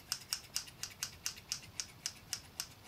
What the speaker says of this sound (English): you've bought these scissors. They work very well.